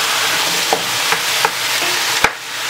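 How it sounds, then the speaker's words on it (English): A spoon stirs brown stew chicken with ketchup in a hot pot, giving a few soft scrapes and knocks against a steady low sizzle, close and fairly loud, with no talking. "Give it a little, simple little stir."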